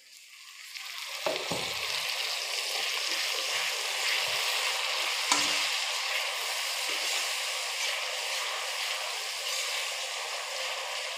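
Masala sizzling steadily in a pan of Assamese beef bhuna just after water is poured in, a loud continuous fry hiss with a few small pops, no talking.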